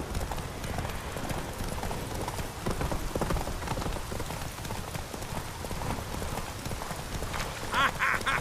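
Racing horses gallop in The Witcher 3, a dense, continuous drumming of hooves close by with a busy, clattering rhythm, and a short whinny or call near the end.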